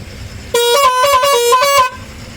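A single loud, close blast from a 12-tyre, 32-foot lorry's multi-tone horn under test at a loading point, lasting over a second and stepping through several pitches before it cuts off abruptly.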